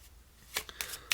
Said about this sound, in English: So let's say the deck is shuffled